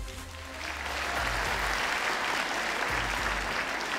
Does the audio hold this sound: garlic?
no